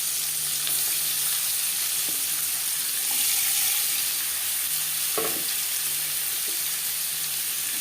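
Chopped onion frying in a little oil, a steady close sizzle with occasional stirring clinks and scrapes throughout, no voices.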